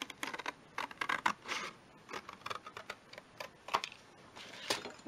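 Scissors snipping through paper for a Christmas snow globe journal page, a quick run of crisp close cuts and clicks in irregular bursts, with no talking.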